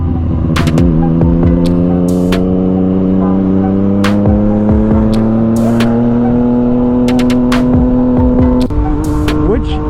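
A Yamaha FZ09 motorcycle races through cold weather riding, its engine droning loud and close with steady rising pitch through a gear change, sharp clicks and wind buffeting scattered over it.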